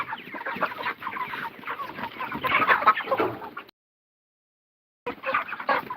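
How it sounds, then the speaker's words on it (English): Broiler chickens clucking busily at close range while feeding, a dense continuous chatter of many birds, then a brief silence before the clucking resumes. "when you are feeding these broiler chickens"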